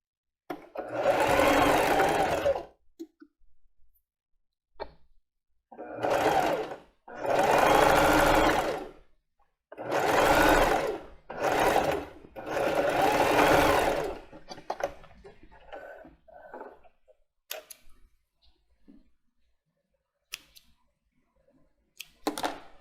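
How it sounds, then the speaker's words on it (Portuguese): A domestic sewing machine runs a zigzag overlock-style stitch along a fabric edge for a plus-size panty, in several short close bursts separated by pauses, with a few soft clicks at the end. "Então agora a gente vai fazer uma overlock aqui na beiradinha. Um overlock, um zigue-zague"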